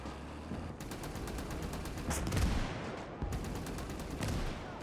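Machine-gun fire rattles in rapid bursts during a 1944 Battle of the Bulge siege defense in a video game, with one heavier blast partway through, loud and close with no speech.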